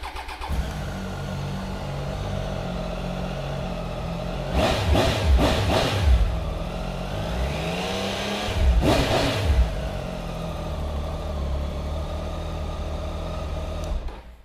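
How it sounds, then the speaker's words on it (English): A Triumph Tiger 800 XCX adventure motorcycle engine starts and idles steadily with a few quick throttle blips revving up and settling back, close and loud. "So let's fire this one up and have a listen."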